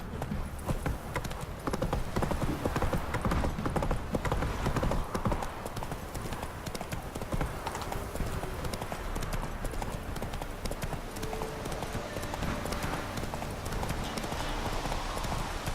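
Steady clip-clop of Geralt's horse Roach trotting along in an open-world fantasy game, the even hoofbeats continuing throughout with a faint voice briefly over them.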